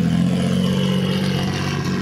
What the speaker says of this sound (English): Rev it, bro.